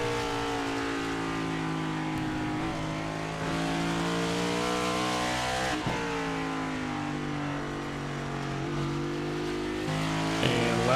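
Race car in iRacing at Watkins Glen accelerating hard out of the carousel, the engine rising steadily in pitch through gear changes, a loud, close, continuous whine with brief dips at each upshift.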